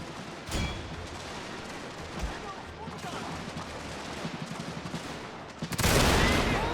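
Massed musket volleys crackle from four infantry lines firing on conscripts in a Prussian-era strategy game, a dense run of rapid shots building to a loud, sustained burst near the end.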